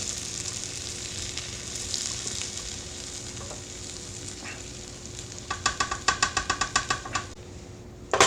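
Vegetables for a Jack Daniels pot roast hissing and sizzling as they drop into a hot pot, a steady frying hiss with a burst of quick crackling pops near the end, no talking over it.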